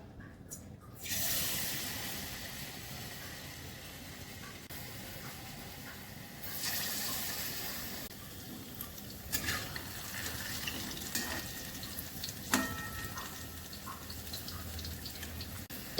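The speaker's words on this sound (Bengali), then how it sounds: "তেল গরম হয়ে গেছে, এবার আমি ভেজে নেব।" Palm fritters (taler bora) fry in hot oil, a continuous close hiss and sizzle with occasional clinks and scraping, and no voices heard.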